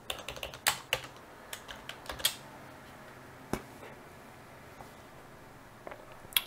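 Keys tapped on a computer keyboard while entering a serial print command for an Arduino sketch, with quick irregular clicks in bursts and then sparse single taps, close and fairly quiet.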